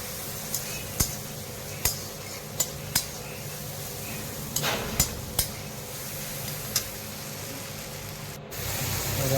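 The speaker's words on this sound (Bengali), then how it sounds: "এবার মশলাটা হালকা করে কষে নেবো।" Spice masala of fried onion and tomato with green chilli being stirred in a pan, a soft background sizzle punctuated by sharp scraping clicks of the spoon against the pan at irregular intervals.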